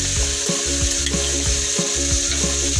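Noodles for Korean japchae fry in a pan with a continuous close sizzle, broken by rhythmic scraping and stirring strokes roughly every third of a second, with no talking.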